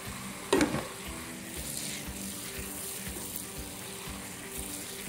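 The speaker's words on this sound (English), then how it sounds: "I'm cooking my butter. Okay, let it cook." Butter cooks in a pan for buffalo wings, a steady close sizzle and crackle after a brief clank of utensil against pan, continuing evenly with no voices.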